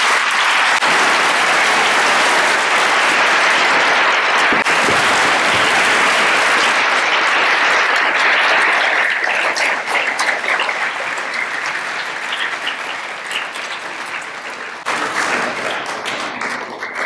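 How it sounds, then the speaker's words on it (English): Sustained audience applause for veterans at a middle school Veterans Day assembly, a dense steady clapping roar that runs the whole time, thinning and softening toward the end before a brief renewed swell. "Please join us in a warm round of applause celebrating all our brave veterans today."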